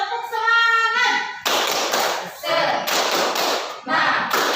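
Schoolchildren clap out the rhythmic tepuk semangat cheer in a classroom: a short voiced call, then loud group handclap patterns mixed with shouted chanting in quick bursts.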